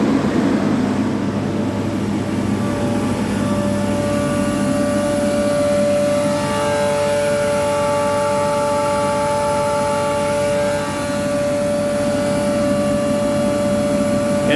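A Butler vacuum blower runs loud and steady with a droning whine and rising tonal harmonics as it blows water out through its exhaust, continuous throughout.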